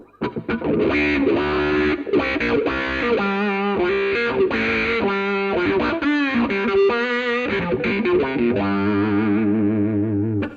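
Heavily distorted electric guitar through a BOSS DS-1 distortion pedal, tone knob fully off and guitar volume full, producing buzzy, vowel-like synth tones with shifting notes, loud and continuous.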